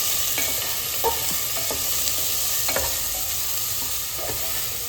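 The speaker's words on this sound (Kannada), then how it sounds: "ಆಮೇಲೆ ಹಸಿಮೆಣಸಿನ್ಕಾಯಿ ಇಷ್ಟು ಹಾಕಿ ಸ್ವಲ್ಪ ಕಂದು ಬಣ್ಣಕ್ಕೆ ತಿರುಗೋವರೆಗೂ ಫ್ರೈ ಮಾಡ್ಕೊಳ್ಳೋಣ." Onions and green chillies fry in a pan with a steady, close sizzle and a few light spatula scrapes scattered through it. The sound is unbroken and carries no speech.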